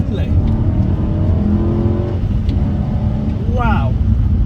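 Engine of a BMW E92 M3 revving hard in third gear through a left-hand corner, a loud continuous in-cabin drone with rising and falling harmonics, a voice briefly audible over it.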